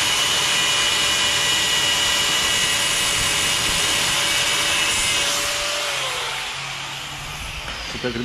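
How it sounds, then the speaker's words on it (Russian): Loud, continuous grinding whine of a cutting tool slicing through seized, rusted car bolts at a roadside service shop, with a steady tone that drops near the end as the cut finishes. "болты прикипели, поэтому приходится их резать"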